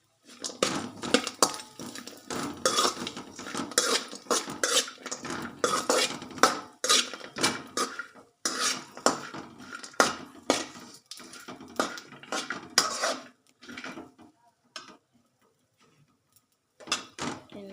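Grated coconut being stirred into palak (spinach) gravy in a pan, a busy run of quick scraping and clinking strokes of a spoon against the metal pan that fade into brief pauses toward the end, with no talk.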